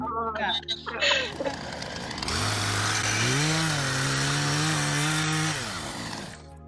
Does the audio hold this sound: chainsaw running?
yes